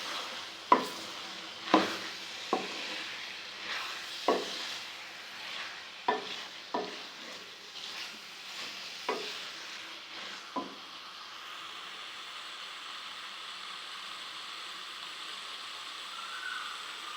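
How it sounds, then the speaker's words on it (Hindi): Boiled turnips being fried in spice masala over a medium flame: a soft sizzle runs throughout, punctuated by about nine sharp spoon or spatula knocks against the pan in the first ten seconds, then continuous quieter frying. "अब इसमें हम उबले हुए शलजम डालेंगे और इनको अच्छी तरह से भूनेंगे।"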